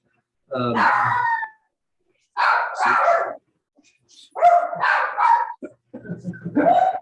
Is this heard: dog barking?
yes